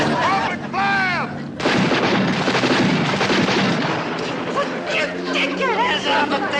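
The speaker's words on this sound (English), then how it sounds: "That's a boat down there firing at us" Rapid heavy gunfire and booming artillery from a boat in a wartime comedy scene, loud and dense under shouting voices and whistling shell sounds.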